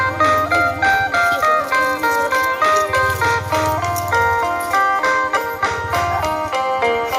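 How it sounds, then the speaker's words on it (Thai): An ice cream truck chimes its looping, bright melody close by and loud, the tune repeating steadily with a low engine rumble beneath, heard in a Thai setting where a child is expecting it to arrive. "รถไอติมจะมา"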